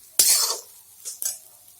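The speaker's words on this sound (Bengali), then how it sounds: "ভালো করে একটু ভেজে নেব" A spiced potato mixture for aloo chop is stirred and fried in a pan, with two short, sharp scraping sizzles separated by a brief quiet gap.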